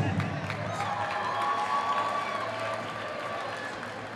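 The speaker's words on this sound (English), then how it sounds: "Give them a big round of applause." A school audience applauds teachers, staff members and the principal at a 2013 school program, with clapping and crowd noise filling the room under cheering and a steady hum.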